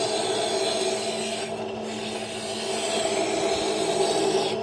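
A cut piece of stained glass is deburred, giving a continuous close rasping and rubbing that stays steady and fairly quiet throughout, with no talking.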